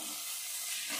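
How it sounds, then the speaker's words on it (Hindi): Grated carrot halwa with added sugar fries in a pan, giving a brief, steady, close sizzling hiss with no voices. "हो गया इतना चीनी ऐड करके अच्छी तरह से फिर भून लेते हैं।"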